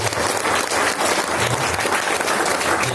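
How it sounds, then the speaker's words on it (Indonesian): A seminar audience gives Pak Fajar a round of applause, a dense, continuous wash of many people clapping at steady loudness throughout, with no clear speech over it. "Tepuk tangan buat Pak Fajar."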